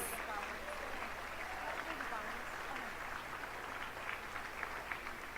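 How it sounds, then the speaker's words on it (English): Audience at a scholarship gala gives a steady round of applause, a continuous wash of clapping heard at moderate distance in a large room with faint voices underneath. "let's give them a big, big round of applause, please."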